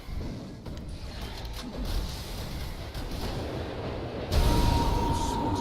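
Tinker's rockets firing in Dota 2 amid a busy team fight, a dense rumbling barrage of launches and impacts with a louder burst near the end, mixed with game noise.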